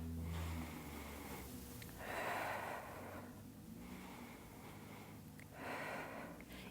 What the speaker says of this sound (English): Big, deep belly breaths.